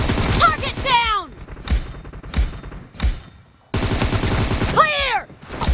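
Gunfire in a team-based shooting video game, several punchy shots and thuds in quick succession amid game music, sweeping effects and announcer callouts, loud and close.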